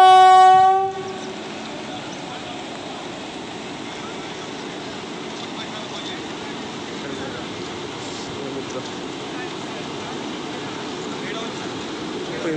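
A Sanghamitra passenger train runs on a newly restored track, opening with a brief loud horn blast and then settling into a steady rolling rumble with faint clatter that lasts the rest of the stretch.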